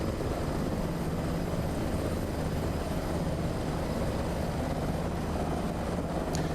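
HPG H145 helicopter in Microsoft Flight Simulator, a continuous low rotor and turbine drone holding steady throughout, with a brief higher click near the end.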